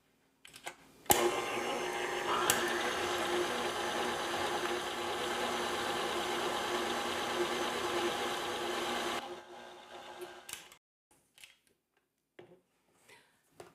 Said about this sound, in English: now we just mix until the dough comes together